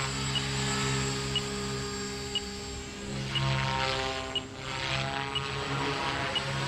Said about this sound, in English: it is really a responsive helicopter